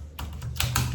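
A short flurry of computer keyboard keystrokes while entering a SQL comment, several close crisp clicks over a low steady hum, with no speech.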